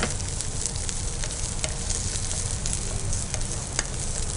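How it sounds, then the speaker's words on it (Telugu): Boiled vegetables, including cauliflower, lightly frying in a pan for veg pulao: a steady, dense sizzle with faint scattered crackles, close and fairly loud, with no talking. "మనం ఫ్రై చేసుకుంటూనే బాయిల్డ్ అయిన వాటిని కొద్దిగా లైట్గా ఫ్రై చేసుకుంటే"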